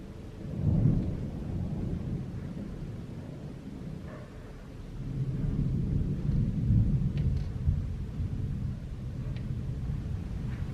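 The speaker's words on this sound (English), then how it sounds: "Lots of storm clouds and lots of thunder. And there's been some rain." A thunderstorm with deep rolling thunder, one rumble near the start and a longer one midway, over a steady hiss of rain that carries on throughout, heard outdoors with no talking.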